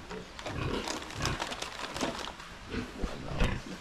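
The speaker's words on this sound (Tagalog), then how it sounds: "Yung mga biik natin dito." Piglets on a pig farm squeal and grunt in a noisy, overlapping chorus, with dense animal cries close by and filling the whole stretch.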